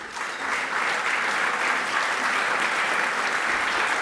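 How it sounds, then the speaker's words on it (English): Audience applause greets a woman coming up to speak at The Salvation Army's Flower Power event, a steady, dense wash of many hands clapping that swells after a brief start and holds loudly throughout. "Please give her a round of applause"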